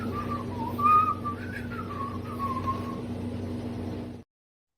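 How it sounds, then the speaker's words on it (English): A person whistles a wandering, wavering tune over a steady hum, the melody drifting up and down for several seconds before cutting off abruptly. "I think it's the whistling that gets me the most."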